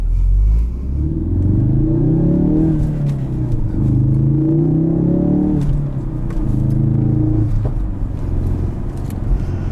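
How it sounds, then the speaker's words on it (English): A 2016 Ford Focus RS engine revving up as the clutch is released while setting off, with loud, close, rising and falling revs and a deep rumble repeating several times across the stretch. "as soon as you start releasing the clutch, it revs up for you"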